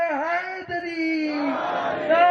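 A crowd at a religious gathering in Ahmedabad shouts religious slogans back in unison, a loud sustained roar of many voices that swells near the end under a reverberant hall sound.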